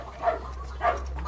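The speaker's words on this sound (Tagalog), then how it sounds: "galit na galit talaga itong aso na to sa pato. Tahol ng tahol." Dog barking angrily at Muscovy ducks, two short separate barks about half a second apart, moderately loud over a steady low background hum.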